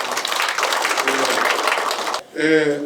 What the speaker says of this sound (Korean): 다시 한번 큰 박수 보내주시기 바랍니다